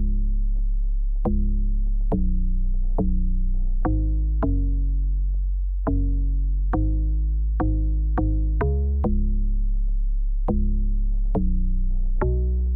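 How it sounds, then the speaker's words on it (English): Log drum from a log drum VST in an Afrobeat, deep pitched bass thumps in an uneven syncopated pattern, each hit booming with a woody attack and ringing decay, loud and alone. "I love using this log drum from the log drum VST"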